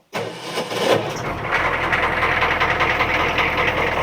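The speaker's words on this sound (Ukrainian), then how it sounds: "Заводиться з полтичка." A military vehicle's engine cranks and catches almost at once, then settles into a loud, steady, slightly rough idle close by, with no talking.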